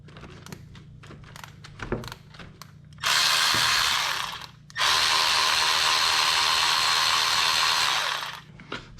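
Ratchet turning a 10 millimeter socket on a Corvette water pump: quick clicking bursts, then two long stretches of dense, steady ratcheting close by, separated by a short pause.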